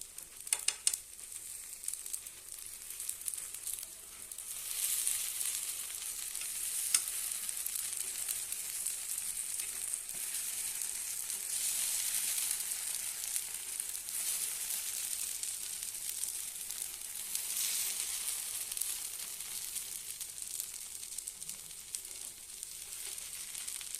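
Paniyaram batter frying in the wells of a paniyaram pan, a steady soft sizzle and crackle that holds evenly throughout, with a few light clicks near the start and no talking.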